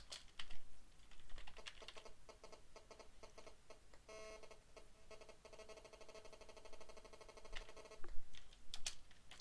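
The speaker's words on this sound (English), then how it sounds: "Sorry, my lousy typing." Rapid, uneven clicking of computer keys, fairly quiet and close, typing in short bursts with a brief pause near the end.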